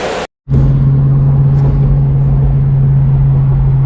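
A 1973 AMC Javelin engine runs on fresh gas, a loud, steady low rumble heard up close after a brief cut, holding an even drone to the end.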